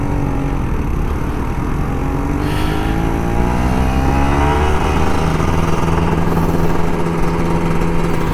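Kawasaki Ninja RR 150 motorcycle engines rev again and again, their pitch rising and falling in waves over a steady rumbling idle, close by and loud.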